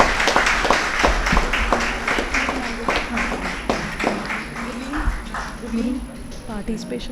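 Rhythmic group clapping from an audience at a national moot court competition continues steadily while a voice talks over it, the claps softening slightly toward the end.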